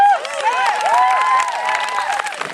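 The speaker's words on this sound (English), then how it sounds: "So give Sam a round of applause." A high school audience applauds and cheers a student singer after a Guys and Dolls number, with dense clapping mixed with whooping voices throughout.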